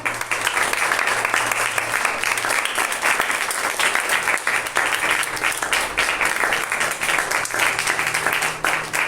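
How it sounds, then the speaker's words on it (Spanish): Sustained applause from a church congregation, dense and steady at close range for the whole stretch, with faint voices underneath. "¿Le puedo dar un aplauso al Señor?"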